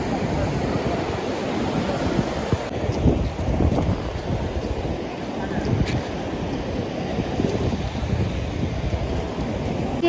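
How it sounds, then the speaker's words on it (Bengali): Cool wind blows steadily across Digha beach on a cloudy morning after overnight rain, with a constant rushing roar and surf-like noise throughout. "কি সুন্দর ঠান্ডা ঠান্ডা হাওয়া"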